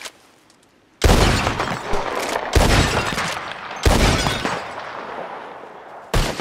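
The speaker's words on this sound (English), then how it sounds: "Who can shoot the most bottles? Just draw your gun and aim when you're ready" Gunshots ring out in Red Dead Redemption 2 during a bottle-shooting contest: four loud, sharp reports spaced across the clip, each with a long decaying tail, after a quiet opening.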